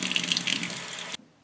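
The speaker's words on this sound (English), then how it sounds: "Now we're gonna rinse the little adductor muscles" Steady hiss of tap water running over cockle clam meat and its adductor muscles in a sink, close and continuous before the flow cuts off sharply near the end.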